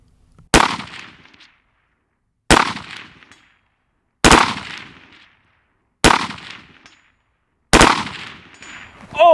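A civilian legal P90 fired at targets: five sharp, loud single shots spaced about two seconds apart, each with a short ringing decay.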